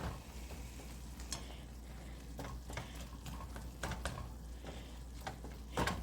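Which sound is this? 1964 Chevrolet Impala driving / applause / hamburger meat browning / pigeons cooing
hamburger meat browning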